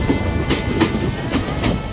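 A train on Vietnam's North–South Railway rolls slowly along the Hai Van Pass coastal cliffs, a steady rumble with a soft, repeating clickety-clack of wheels over rail joints, close and continuous throughout.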